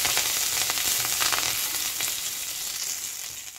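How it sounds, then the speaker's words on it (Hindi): Slit green chillies and curry leaves fry in hot oil in a pan, giving a loud, close, steady sizzle that crackles with a few sharper spits and eases slightly toward the end. "और साथ ही ऐड कर देंगे थोड़े से करी पत्ते, हल्का सा फ्राई करेंगे"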